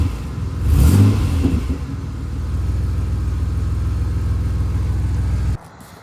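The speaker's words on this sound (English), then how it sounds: "I'll give it a quick little rev." A car with a newly fitted cheap parts-store glass pack exhaust gives one quick rev, then settles into a steady, rumbling idle up close before cutting off near the end.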